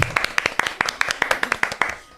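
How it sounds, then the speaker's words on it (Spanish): A studio audience on a TV show claps in unison as a guest arrives, producing about fourteen sharp, evenly spaced claps at a brisk rhythm that fade slightly near the end. "Aplauso."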